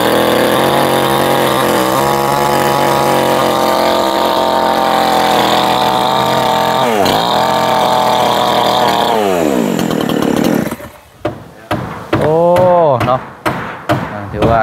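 Loud, steady whine of a chainsaw cutting timber during a woodworking or building job, running nearly continuously for about ten seconds before breaking into short bursts as it throttles and revs between cuts.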